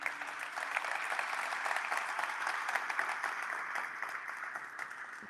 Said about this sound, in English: I think they and Woodside deserve a round of applause